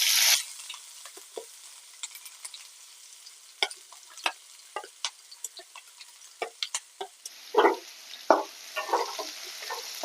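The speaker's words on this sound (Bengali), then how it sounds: "তেল গরম হয়ে গেছে, এবারে পেঁয়াজ দিয়ে দেব" Chopped onions frying in hot oil in a wok for a rohu fish chop, a steady close sizzle with scattered crackles and spatters throughout and a louder hiss of oil at the start.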